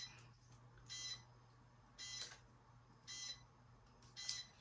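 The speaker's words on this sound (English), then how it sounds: "And I hear my timer going off." A kitchen timer going off in a quiet crafting room, sounding four short high-pitched beep bursts at roughly one-second intervals over a steady low hum.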